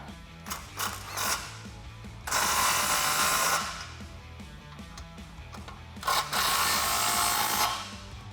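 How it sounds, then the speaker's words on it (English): A 15mm deep socket on a ratchet wrench tightening exhaust clamp bolts on a 2018–2020 Mustang GT Borla cat-back system. Quick clicking ratchet strokes alternate with two longer, louder buzzing runs of rapid pawl clicks, close by with no speech. "Grab your 15mm deep socket and tighten them down."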